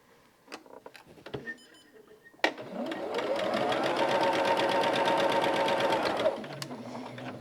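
A sewing machine stitches quilt rows in a steady rapid run that lasts about four seconds, preceded by a few handling clicks and a sharp start, close and clear.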